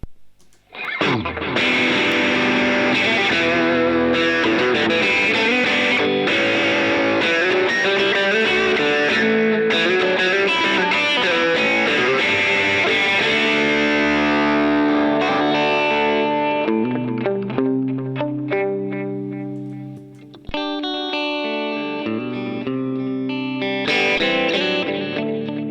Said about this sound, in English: You can kick in the distortion.